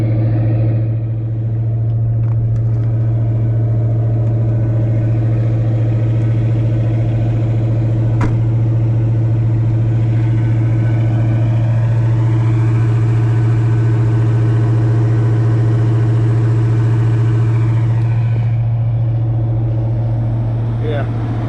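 A carbureted Fox body car engine runs at a steady idle, a deep constant rumble close by for the whole stretch, with a few faint background sounds over it and no clear change in revs.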